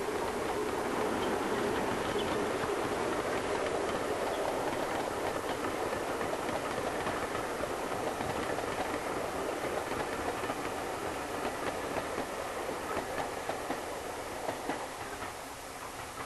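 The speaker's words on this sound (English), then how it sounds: "Bahamas coming back with a passenger train." The locomotive Bahamas hauls a passenger train on the Keighley and Worth Valley Railway, a loud, continuous close rumble with rhythmic wheel clatter that eases slightly toward the end.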